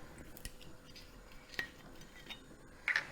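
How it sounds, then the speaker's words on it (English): A spoon measures Cointreau into a white chocolate mixture in a bowl, light scattered clinks and taps of metal on dish, quiet and close with a sharper chink near the end. "I'm going to measure in my Cointreau"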